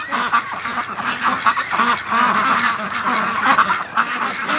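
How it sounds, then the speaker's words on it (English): Ducks at the feeder in their pen produce a close, continuous chorus of honking and quacking calls, overlapping and busy throughout. "The ducks are in the pen eating."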